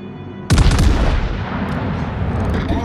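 Artillery barrage in a naval video game hitting a designated target: a sudden heavy boom, then a dense rumbling roll of blasts and crackle that keeps going loud to the end, with no voices.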